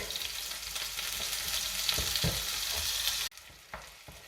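Spinach filling seasoned with ground cumin sizzling in a pan for a spinach and fresh goat cheese bourek, a steady hiss of frying with a few soft stirring scrapes, cutting off abruptly to a quieter simmer near the end.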